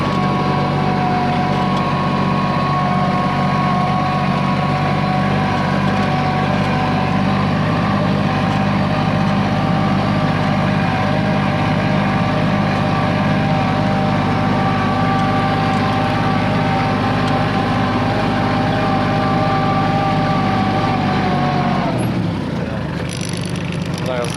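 A tractor engine drones steadily while ploughing a field, running at about 1800 to 2000 rpm. The sound is loud and close, with a continuous low rumble and whine that shifts and drops near the end.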